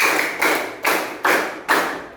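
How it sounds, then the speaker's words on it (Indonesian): Counted hand claps during an ice-breaking concentration game, five loud, close, evenly paced claps each about half a second apart, with a short ring after each strike. "Tepuk 1, tepuk 2, tepuk 3, tepuk 4"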